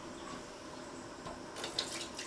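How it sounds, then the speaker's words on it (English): Hot water pours into a pressure canner holding wide-mouth jars of sauerkraut, a soft steady running trickle that turns brighter and splashier toward the end. "Now I'm going to add the 2 quarts of hot water."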